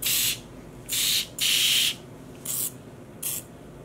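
Misto pressurized spray bottle misting acid dye onto yarn: five separate hissing bursts of varying length, close and clear, with short quiet pauses between them.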